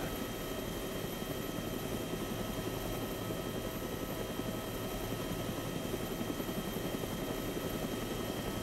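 Helicopter in a military video game mission, its rotor and engine drone steady and fairly loud throughout, continuous with no breaks and no speech on top.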